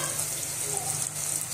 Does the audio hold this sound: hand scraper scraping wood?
no